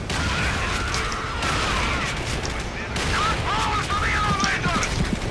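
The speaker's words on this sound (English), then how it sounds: "Oh, the shotgun. Give me the shotgun." Shotgun blasts in the video game Dark Sector sound among steady game noise and combat effects, several sharp reports spread across the stretch.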